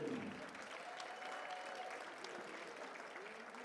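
Audience applause for a senior wrestler at a high school wrestling meet, a steady sustained clapping from the crowd filling the gym at even loudness throughout.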